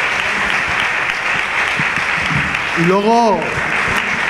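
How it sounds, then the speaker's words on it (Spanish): A large crowd in a football stadium applauds steadily for Elche CF's coach Pacheta during a promotion celebration. The applause is loud and continuous, someone speaks briefly over it, and a higher voice rises near the end. "Un aplauso, por favor,"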